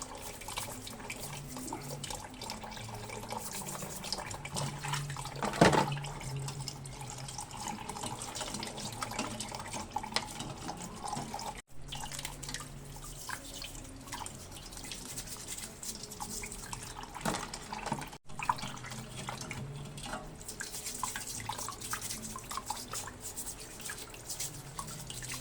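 A kitchen tap runs steadily into a sink as live crabs are rinsed and cleaned before frying, water splashing and dripping continuously at close range with occasional clatter, no talk over it.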